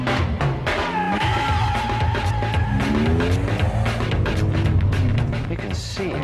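A Lamborghini Aventador driven hard by the Stig on a test-track lap, engine revving up and down through gears with tire squeal and skidding, loud and close, with brief voices underneath.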